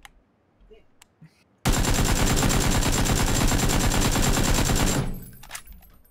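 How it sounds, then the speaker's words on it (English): An AK rifle fires full auto in PUBG, a loud, close, rapid continuous burst lasting about three seconds that starts abruptly out of near silence and then cuts off. "Never again do I use the AK and pull auto from that range"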